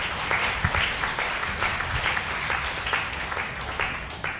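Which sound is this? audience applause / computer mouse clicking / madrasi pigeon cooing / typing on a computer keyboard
audience applause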